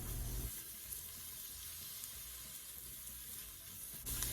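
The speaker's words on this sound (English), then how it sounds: "I got my onion all chopped up and I'm adding it to the pot. There's already olive oil heating up in here" Chopped onion sautéing in a pot of hot olive oil, a steady, moderately loud broadband sizzle that holds evenly across the clip after a brief initial burst.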